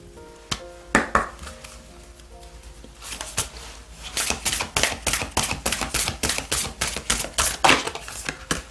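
Oracle cards being shuffled for a tarot reading, a few scattered taps and then a rapid run of crisp, papery riffling flicks, close and distinct, with no talk.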